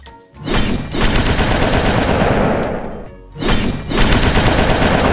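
A gun-shooting skill in the Roblox game Verse Piece fires in two loud bursts of rapid gunshots, the first trailing off in a falling sweep before a brief lull and a second volley.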